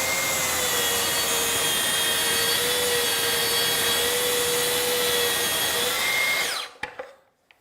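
A power saw cuts wood for a kids' desk with a loud, steady whine and grinding rasp lasting about six seconds, then spinning down and stopping, followed by a couple of light knocks.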